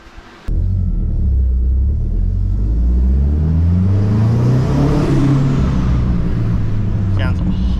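A car engine with a rattly, vibrating motor kicks in abruptly and runs loud and steady, a rumbling drone that rises in pitch as it revs up, then settles back at the end.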